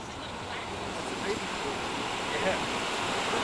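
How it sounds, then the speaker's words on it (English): Strong ocean surf breaking near tidal pools on the Galapagos coast, a steady broadband roar of waves with wind buffeting the microphone throughout. "the surf is very strong out here"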